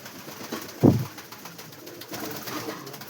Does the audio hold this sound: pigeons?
yes